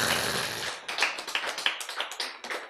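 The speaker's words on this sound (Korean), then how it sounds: "박수." Audience clapping during a Bible lecture, starting as a dense burst of applause that thins into a few rhythmic, evenly spaced claps, fairly close and clear.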